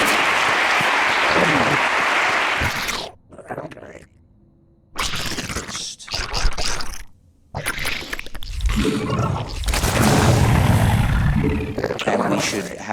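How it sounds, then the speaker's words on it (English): Audience applause at a talk before an auction, loud dense clapping that breaks off twice into near silence and then comes back, with a voice speaking at times between the bursts. "please give an applause for the..."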